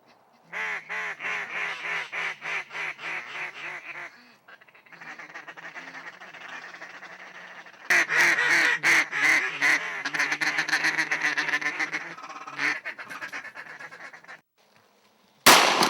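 During a waterfowl hunt near a duck blind with decoys set out, ducks give loud runs of rapid quacks with geese honking, in bursts broken by short quiet gaps, with no talking.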